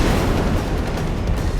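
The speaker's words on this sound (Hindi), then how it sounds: "आप तो इतने छुटके छुटके बॉम्ब फोड़ रहे हैं" Small firecrackers being set off during festive preparations, heard as a dense, loud rumble of low booms and crackle that fills the whole moment without any gap.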